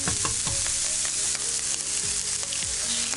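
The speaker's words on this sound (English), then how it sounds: "just continuing to give those a little stir fry, let it warm up" Food stir-fries in a hot pan with a loud, continuous sizzle, broken by clinks and scrapes of stirring, and no voices.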